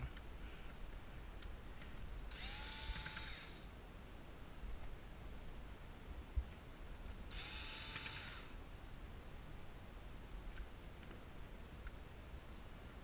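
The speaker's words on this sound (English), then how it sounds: "we're going to remove the 2 screws here, one here, and one here" Power tool driving out screws from a Konica Minolta Bizhub 601/751 copier, two short whirring bursts a few seconds apart over a faint steady background hum, no speech.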